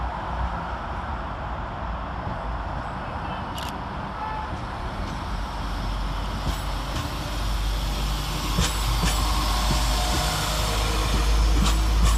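A Class 172 diesel multiple unit train rumbles into Birmingham Snow Hill station, a low engine drone building steadily with occasional metallic clicks and squeaks from the wheels.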